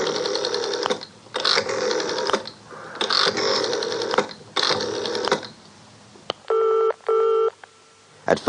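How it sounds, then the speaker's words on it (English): A telephone audiobook sound effect: several bursts of rapid rotary-style dialing clicks, each about a second long, then two short electronic ringing tones near the end, close and loud with no voices. "He was very worried indeed when he picked up the phone and dialed nervously."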